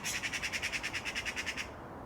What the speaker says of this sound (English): Listen to the magpies.